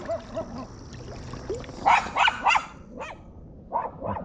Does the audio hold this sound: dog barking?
yes